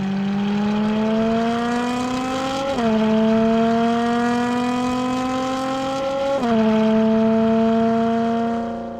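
A video game car engine driven by Crankcase Audio REV in Wwise revs steadily upward in pitch, dropping sharply at two gear shifts before climbing again, loud and continuous with no talk.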